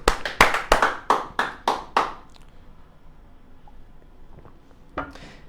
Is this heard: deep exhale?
no